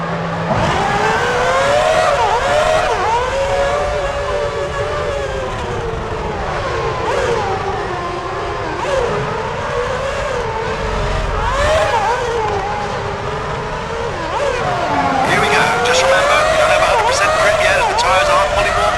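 A field of Formula 1 cars pulling away on the parade lap at Monaco in the game F1 2006 Championship Edition: a dense, continuous whine of many engines, with a commentator talking over it.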